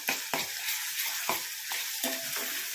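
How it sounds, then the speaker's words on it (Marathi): Green ground masala paste sautéing in hot oil for a crab curry, with a steady close sizzle and repeated stirring scrapes at a regular rhythm, no voices. "आता मी हे हिरवं वाटण टाकत आहे वाटण थोडंसं आपण परतवून घेऊया"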